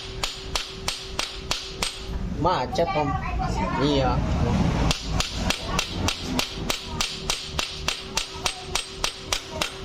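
Sharp metal hammer blows on a cam chain part of an old Honda CB150R (K15) motorcycle during a cam chain replacement, struck in a steady, evenly spaced rhythm that pauses midway while people talk.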